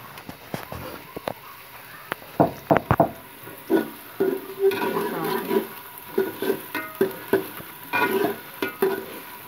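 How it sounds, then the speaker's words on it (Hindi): Onions frying in a pan and being stirred with a spoon, giving a soft sizzle under a run of sharp scraping strokes that come in quick bursts, close and moderately loud. "तो प्याज हम चलाएंगे।"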